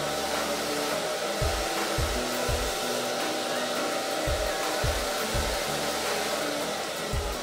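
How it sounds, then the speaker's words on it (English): Hair dryer blowing steadily and close while hair is dried over a round brush, a continuous loud airy roar with repeated low thumps from the brush and dryer being moved, with no voices. "you can add more heat at the blow dryer"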